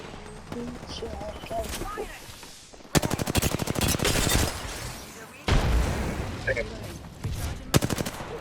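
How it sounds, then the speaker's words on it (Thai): Rapid bursts of distant automatic gunfire from a firefight in the video game Apex Legends, coming in several sharp volleys with short pauses between them, with a few louder cracks standing out. "เนี่ยมีคนยิงกูจากไกลๆอ่ะ"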